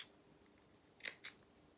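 Two quick close snips of small sewing scissors cutting little triangles out of fabric seam allowance, sharp and faint, in an otherwise quiet room.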